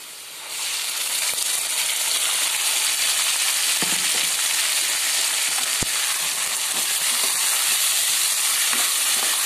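Ground mint paste dropped into browned onions frying in oil for mint rice, a sudden loud hiss that settles into a steady close sizzle broken by a few stirring knocks.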